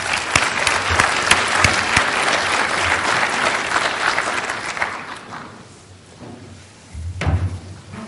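An audience at a REW keynote session applauds to welcome speakers to the stage, loud sustained clapping that gradually fades, followed by a few scattered knocks and a brief final burst.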